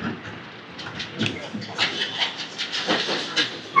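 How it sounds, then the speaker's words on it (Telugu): Ambience at Araku railway station: a steady broadband bustle of open-air noise with scattered clacks and knocks, rising in busyness toward the end, and indistinct voices mixed into the background. "ఇదే అరకు రైల్వే స్టేషన్."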